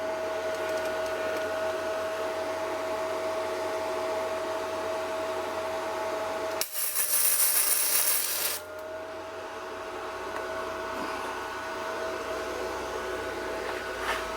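A first welding attempt on a bike build, with a welder giving a sudden harsh crackling hiss of sparks that lasts about two seconds over a steady humming background, fairly loud and close.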